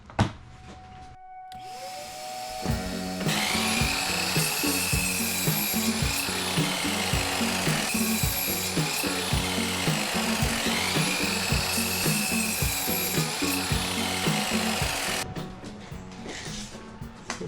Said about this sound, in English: I could actually just use a chop saw